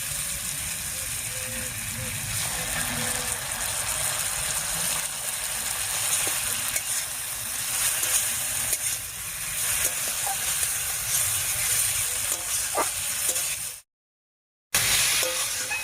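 Ground spice paste hits papaya already frying in a pan for a Bengali fish curry, giving a steady, broad sizzle with faint stirring scrapes and a talking voice over it, then a brief drop to silence near the end.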